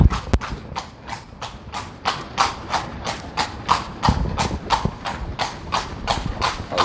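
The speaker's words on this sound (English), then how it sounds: "Look at our little beautiful horse, Silver, who's going to help us doing a tour" Horse hooves clip-clop on pavement in a steady, even rhythm, crisp and close, continuing without pause throughout, as a horse pulls a carriage through the streets of Granada, Nicaragua.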